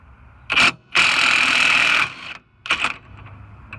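Battery impact tool backing out the 32 mm rear hub nut on a 2000–2005 Honda Civic, heard as three loud bursts of whirring hammering, the middle one longest at about a second, with short pauses between.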